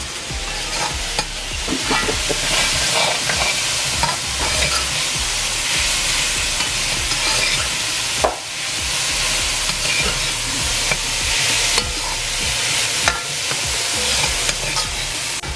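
Cabbage fries in a hot pan with a steady, loud sizzle, broken by scraping stirs throughout and a brief knock of the utensil near the middle, without any talk.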